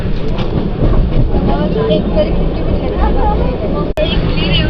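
A steady, loud rumble of a moving train carriage fills the clip, with voices chattering in the background and a brief click near the end.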